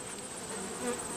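Honey bees buzzing around a hive after feeding on a pollen patty, a steady dense drone heard close and continuous with no talk.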